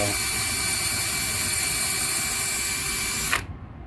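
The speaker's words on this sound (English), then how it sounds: "we're going to go ahead and step up our bit size a bit" A power drill bores into a firestick handle, a loud, steady whine with a constant pitch that runs unbroken for about three seconds and then cuts off abruptly, leaving a short fading tail.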